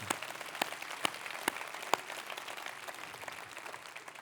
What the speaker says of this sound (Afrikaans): Kom ons gee daardie mense 'n groot hande klap